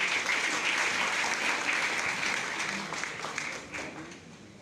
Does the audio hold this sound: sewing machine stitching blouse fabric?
no